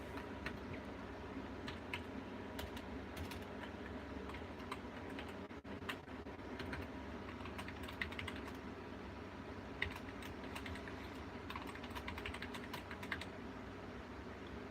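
Steady run of quiet keystrokes on a computer keyboard, typing passwords on a Vista-era desktop build running Linux Lite 4.0, continuous light clicking with irregular rhythm and no voices.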